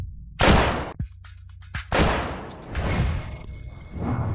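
A toy pistol fires a few sharp, loud pops in quick succession, each a hard broadband burst, with short gaps and a lingering noisy tail between shots, close by and without talk.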